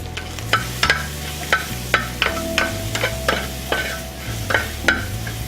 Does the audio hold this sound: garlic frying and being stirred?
yes